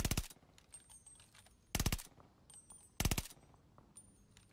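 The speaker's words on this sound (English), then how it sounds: "This is a 4-round burst assault rifle." Itra Burst four-round burst assault rifle firing in a PS5 shooter, three sharp rapid bursts spaced about a second apart, fairly quiet against a faint background.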